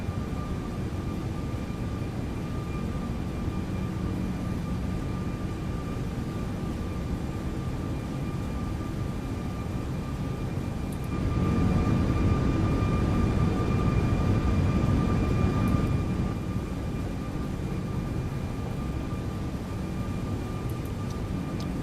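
A steady, loud roar of Airbus A340-600 engines during climb in the X-Plane flight simulator, a continuous drone with a slight swell midway and no talk over it.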